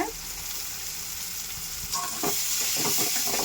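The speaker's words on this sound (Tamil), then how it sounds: "இந்த மாதிரி நல்லா ஒரு 2 நிமிஷம் வதக்கணுங்க." Ground coconut, garlic and dried chili paste sautés in a pan with a steady sizzle, louder spatula stirring and scraping joining in partway through, close up and with no talk.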